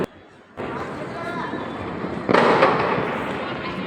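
Firecrackers bursting outdoors in the days after Diwali, a dense crackling roar that starts abruptly and swells into a louder burst partway through, with faint voices in the background.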